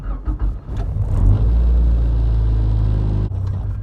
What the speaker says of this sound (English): So there's the fuel pump going.